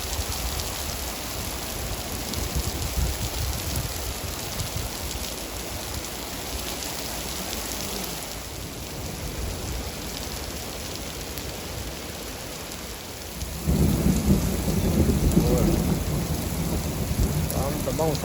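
Heavy rain pours steadily in a Pakistani village while thunder rumbles, and the downpour grows louder and denser partway through, with no voices.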